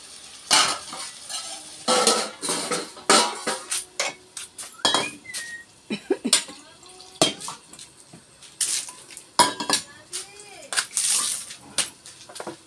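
In a kitchen, a lid and pot of fish and chicken curry clatter with sharp metallic clinks and scrapes, irregular bursts of knocking against cookware, with a little water splashing.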